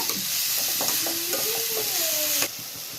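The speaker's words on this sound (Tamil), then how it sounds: "இந்த மாதிரி ஒரு 2 நிமிஷம் நல்லா வதங்க விடுங்க." Beetroot poriyal sautéing in a pan, a steady close sizzle and fry hiss for about two and a half seconds with light stirring scrapes, then an abrupt drop.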